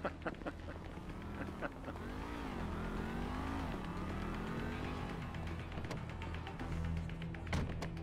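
A car engine in GTA V, steady and revving with rising and falling pitch as the car drives, with voices talking over it.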